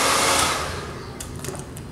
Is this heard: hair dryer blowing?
yes